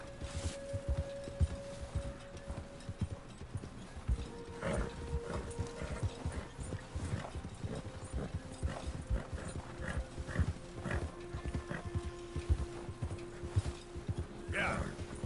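Horse hoofbeats in the video game Red Dead Redemption 2, a steady clip-clop of a ridden horse under faint background music and game sounds, with someone talking over them now and then.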